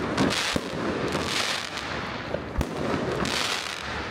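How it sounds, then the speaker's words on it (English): Fireworks go off all around during New Year celebrations in Budapest, a continuous crackling roar with a few sharper nearby bangs standing out over the dense distant barrage. "Everywhere we look, there's fireworks going."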